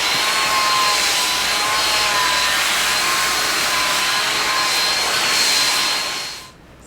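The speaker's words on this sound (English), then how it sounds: "Take your blow dryer and brush through the hair" A blow dryer fitted with an attachment runs steadily close up while brushing through short hair, a loud constant whine and rush of air that cuts off abruptly at the end.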